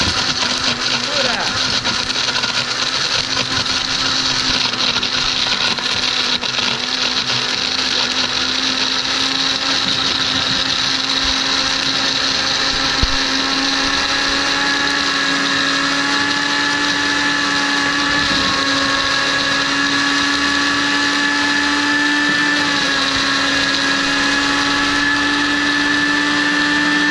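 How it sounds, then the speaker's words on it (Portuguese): A blender runs steadily for the whole stretch, a loud continuous motor whine with a shifting pitch and some rattling, grinding sandwich cookies and chewing gum. "E agora nós vamos ligar o nosso liquidificador e ver o que acontece."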